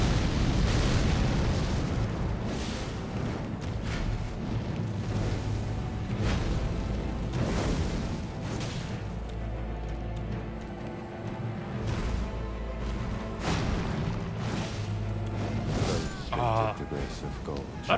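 Fire fist explosion attacks in Elden Ring burst repeatedly as loud booming blasts amid constant game action and rumbling, with someone talking over the fight.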